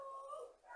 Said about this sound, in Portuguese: Esse chorinho é do meu cachorro que tá querendo sair